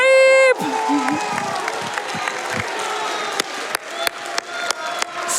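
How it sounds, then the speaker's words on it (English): A room full of people at Summer Games Done Quick 2023 cheers and applauds after a brief tone, keeping up a dense, loud crowd roar punctuated by sharp claps and thumps. "So many people in the room are on their feet cheering for you, Twitch chat."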